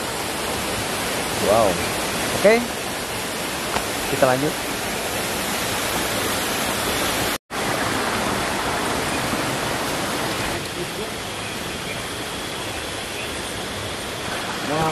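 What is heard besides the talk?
waterfall spray inside a cave behind the falls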